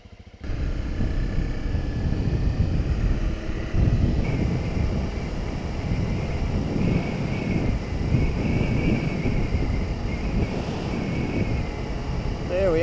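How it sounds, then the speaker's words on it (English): Steady, roaring wind buffets the microphone throughout a highway motorcycle ride at about 110 in a strong outback crosswind, a dense continuous rush with engine and road noise underneath and no pauses. "Really strong crosswind today"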